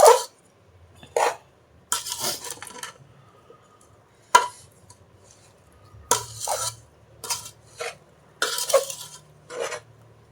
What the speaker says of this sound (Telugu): కారము, ఉప్పు, ఆవపిండి, మెంతి పొడి, వెల్లుల్లిపాయలు, ఇవన్నీ కూడా ప్రతి ముక్కకి పట్టేలాగా కలుపుకోవాలి ఫస్ట్